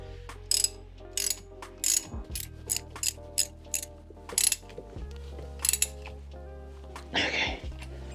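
A ratchet wrench clicks in repeated short bursts as a new magnetic drain plug is tightened into a Range Rover Sport L320 differential, close and crisp, with a louder scrape near the end.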